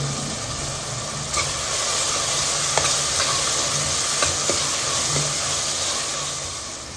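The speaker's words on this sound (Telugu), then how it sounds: "మనకు ఉల్లిపాయ ముక్కలు తొందరగా ఫ్రై అవ్వాలి కాబట్టి కొంచెం ఉప్పు వేసుకున్నాము, తొందరగా ఫ్రై అవుతాయి." Onion pieces fry in oil with turmeric and salt for a spicy mutton curry, giving a loud continuous sizzle with a few faint clinks of stirring.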